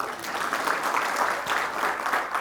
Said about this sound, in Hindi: ताली बजाओ भाई उनके लिए।